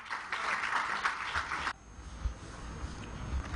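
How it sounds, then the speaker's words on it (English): A quiz-show audience clapping for a contestant who answered correctly, a brief burst of applause that stops abruptly, leaving a low room rumble behind. "Clap for him."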